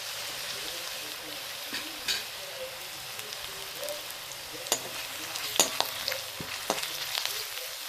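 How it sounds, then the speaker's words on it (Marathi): Steady, close sizzle of ginger garlic paste frying in hot oil in a wok, with occasional scraping and clinking as it is stirred. "आता मी कढईत थोडंसं तेल ठेवलं आहे आणि आता आलं लसूण पेस्ट घालणार आहे।"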